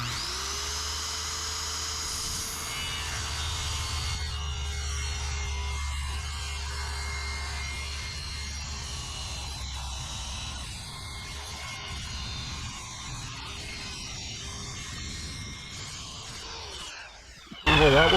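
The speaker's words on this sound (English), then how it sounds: "So what we're going to do is a plunge cut and then work our way up to the top." A power saw plunge-cuts through an attic gable wall to make an opening for a vent, running with a continuous high whine for most of the stretch, close and loud, before a brief louder burst at the end.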